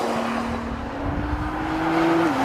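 A 2014 Nissan GT-R Track Pack or Audi R8 V10 Plus accelerates hard in second gear on a race track, the engine note climbing steadily from the cabin with no one talking.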